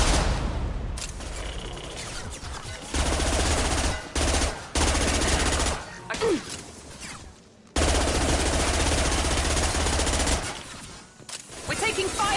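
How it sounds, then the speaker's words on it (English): Machine-gun fire rattles loudly in the video game Mass Effect 2, with rapid volleys and explosive booms broken by short gaps of near silence. "We're taking fire down here!"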